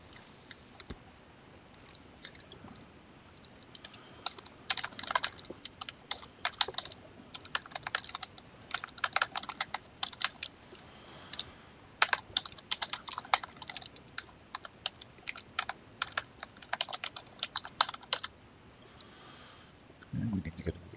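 Clattering keystrokes on a not-so-great computer keyboard while a password is entered, irregular bursts of fast, close clicks with brief pauses, continuing for most of the stretch with a low thump near the end.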